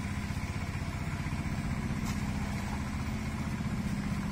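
A Kubota 5018 tractor engine idles steadily, a continuous low rumbling drone at constant level with no voices.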